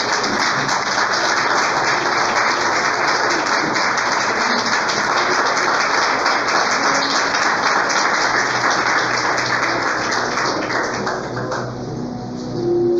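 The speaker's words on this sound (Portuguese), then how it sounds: "dê uma salva de palmas bem alegre para o Senhor Jesus" A church congregation claps loudly and continuously, a thick, joyful wash of applause that holds steady before easing slightly near the end.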